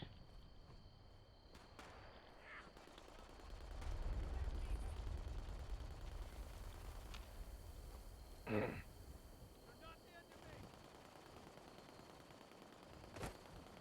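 Faint bursts of automatic gunfire from the video game Fallout 76 sound in the distance over a low, steady ambient rumble, with a few sharper isolated shots.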